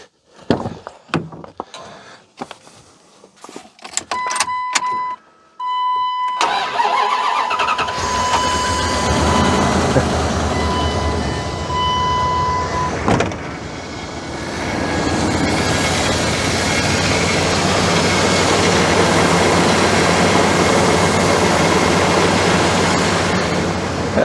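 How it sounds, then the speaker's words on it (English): An old pickup truck engine, its battery disconnected while left sitting, cranks in a few quick bursts, then catches and settles into a steady, loud idle that runs on unbroken for the rest of the time, close by with no talking. "it just runs and starts and runs so beautifully"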